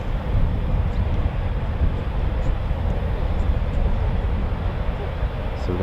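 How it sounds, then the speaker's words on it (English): Eurofighter Typhoon FGR4 jets wait on the runway at RAF Coningsby with engines running, giving a loud, steady, broadband roar and hiss that holds constant throughout. "So we've got 1, 2, 3, 4 Typhoons awaiting clearance for departure."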